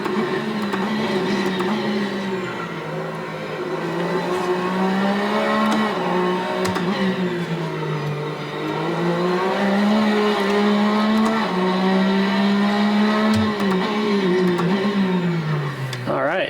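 A sim racing game race car laps the Ring, its engine droning steadily with rising and falling revs through gear changes and corners, continuous and prominent for the whole stretch.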